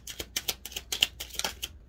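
A deck of cards being shuffled, a quick run of crisp, clicking riffles repeating in rapid bursts, close and fairly quiet.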